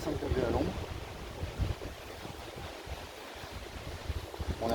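Strong wind buffets the microphone outdoors at a beehive apiary on a warm day, a rough, gusting roar that swells and eases throughout.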